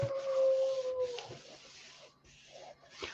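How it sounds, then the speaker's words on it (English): A beagle howls in a long, sustained tone, close and clear, that breaks into whimpering yips, with faint background sounds between the cries. "I think she's howling at the wind."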